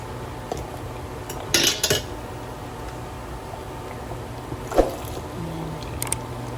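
Tablea chocolate being stirred into sticky rice in a pot for champorado, with a few sharp clinks and scrapes of a utensil against the pot over a quiet background, spaced irregularly.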